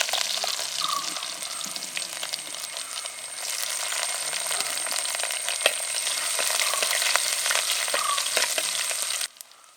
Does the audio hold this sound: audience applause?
no